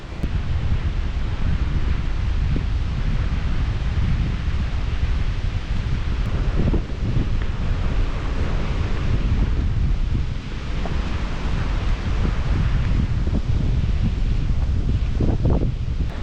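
Strong, steady wind roars across a foggy Appalachian Trail mountain ridge, buffeting the microphone with a loud, continuous rush and low rumbling gusts throughout, with no voices.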